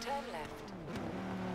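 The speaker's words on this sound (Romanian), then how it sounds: "Cum se aude motorul." A car's engine hums steadily while the car is driven, running continuously beneath a person talking the whole way through.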